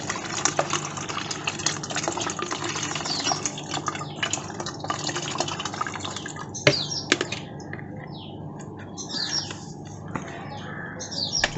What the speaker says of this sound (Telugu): ఆ వాటర్ని మనం నెట్ మీద తిరిగేసి వాటర్ వేస్తే మొత్తం అంతా బకెట్లో వచ్చేస్తుంది అన్నమాట మోయినా